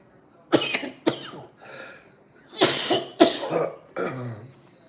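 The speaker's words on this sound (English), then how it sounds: "It doesn't sound too good coughing on here." Several harsh coughs in uneven bursts, close and fairly loud, with a softer throaty rasp between them and quiet gaps.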